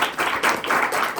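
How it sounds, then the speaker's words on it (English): An audience applauds a professor with dense, continuous clapping that swells and dips slightly, loud and close, with no voices. "can you give your professor a round of applause?"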